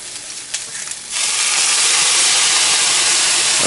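Shrimp sizzle loudly in a hot skillet, starting softer and then swelling into a steady, close crackling hiss.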